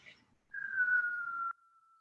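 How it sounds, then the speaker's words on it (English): A single whistling exhale, air squeezed slowly out through pursed lips during a yoga flow, forms a clear one-second tone that tapers into a thin fading whistle, preceded by a brief breath. "try to squeeze the air out through your mouth, but almost as you would whistle"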